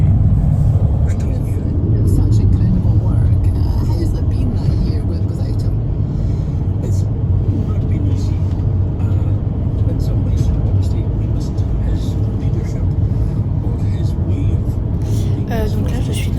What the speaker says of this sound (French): Donc là je suis dans le bus